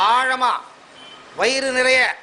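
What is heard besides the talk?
No distinct noise like a dog, phone or traffic.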